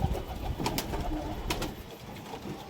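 Desi high-flyer pigeons coo in a low, continuous murmur, with a few brief sharper noises breaking through. No one speaks.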